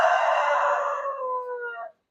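A chicken with a watery, pus-filled eye infection gives a single loud, close crow lasting about two seconds, with no other sound around it.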